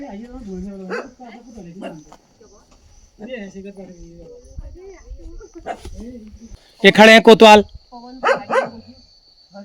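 A village dog in Sangaud, in the Dasholi area of Uttarakhand, lets out a brief, loud burst of close barks between stretches of someone talking.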